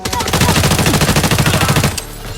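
Sustained rapid automatic gunfire laying down suppressing fire in the shooter game Arena Breakout, loud and continuous bursts of rhythmic shots for about two seconds before cutting off into quieter ambience.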